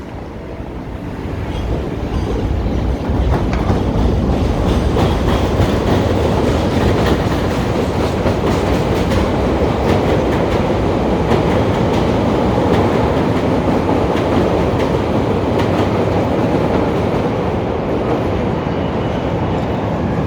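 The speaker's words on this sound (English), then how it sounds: "then you hear another train" A train rolling past in downtown Chicago, a loud, continuous rumble with rhythmic clattering that swells in after a couple of seconds and holds steady throughout.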